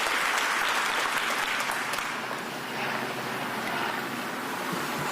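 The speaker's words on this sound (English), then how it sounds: "I want to give you a big round of applause for these athletes" A crowd applauds fencing athletes at an outdoor press event, a dense, steady wash of clapping that fills the scene and fades slightly midway before holding on.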